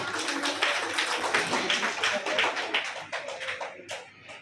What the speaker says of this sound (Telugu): రెడీ అంటే గట్టిగా చప్పట్లు కొట్టాలి